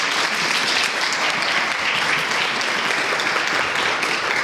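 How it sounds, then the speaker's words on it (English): Dense, sustained applause from an audience at a community climate conversation event, a steady wash of many hands clapping at full volume for several seconds, with no voices. "Round of applause"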